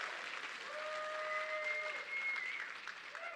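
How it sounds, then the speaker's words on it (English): Audience at a talk applauding for a guest speaker, steady dense clapping from a full room that holds for the whole stretch, with a faint whistle or tone running through it. "Give him a big round of applause."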